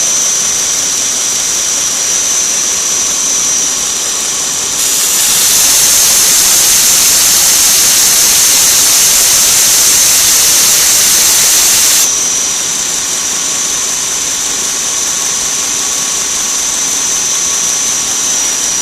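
A belt sander or grinder fitted with a worn 60-grit belt roars steadily, and for several seconds a harsher, louder hiss of abrasive grinding rises over the motor before dropping back to the plain running sound.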